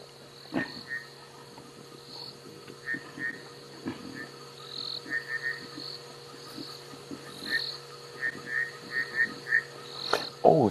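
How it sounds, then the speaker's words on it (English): Bushveld rain frogs call in short, repeated bleating chirps, scattered irregularly over a steady insect hum, moderately close, at night on a South African safari drive. "we can hear some bushveld rain frogs calling now"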